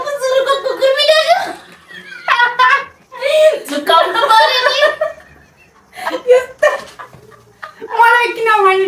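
During an animal guessing game, a person imitates a dog with barking, whimpering voice sounds in loud, close bursts, mixed with chuckles and giggles from others.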